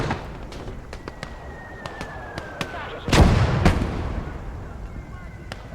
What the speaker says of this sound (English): That's an incoming mortar.